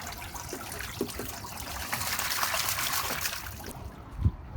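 Pets being bathed make soft, continuous water splashing and trickling, fairly quiet and steady, with a few slightly louder sloshes near the end.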